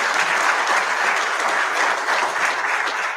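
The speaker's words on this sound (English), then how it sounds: "let's have a round of applause for" Steady, dense applause from a crowd, loud and continuous throughout with no talking over it.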